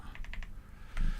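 Several quick clicks of computer keyboard keys pressed to wake the machine, spaced in a short burst and followed by a duller thump, close and fairly quiet in a room with no voices.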